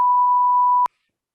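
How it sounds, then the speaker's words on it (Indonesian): A single steady censor bleep, a pure electronic tone held for just under a second, loud and alone, cut off sharply with a click and followed by silence. "Tolong Ju nanti di bip ya Ju."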